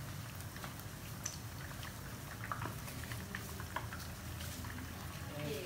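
Prawn fritters frying in hot oil, a continuous close crackling sizzle with scattered pops, steady throughout.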